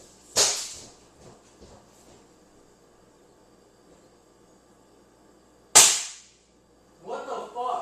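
Two sharp BB gun shots fired at a bottle outdoors, about five seconds apart, each a loud crisp crack that dies quickly, with faint murmuring between them and people talking just after the second shot.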